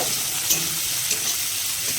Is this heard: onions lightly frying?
yes